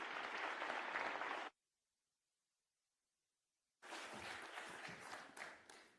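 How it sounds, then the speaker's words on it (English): Audience applause at an official opening ceremony for a national skills competition, a crowd clapping steadily, then a gap of silence, then clapping again, fairly loud with no speech. "Round of applause, please."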